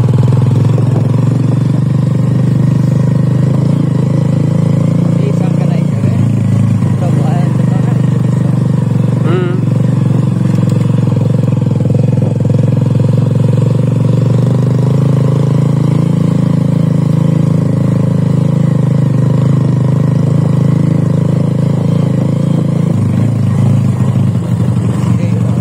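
A motorcycle rides along a rough off-road route, its engine a loud, steady drone close by with small shifts in pitch, while people talk over it throughout.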